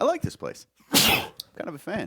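One sharp, loud sneeze bursts out between stretches of conversational speech, with talking resuming right after.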